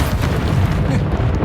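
An Incendio fire spell blast in the video game Hogwarts Legacy, heard as a loud, dense, roaring boom that holds steady for about a second and a half.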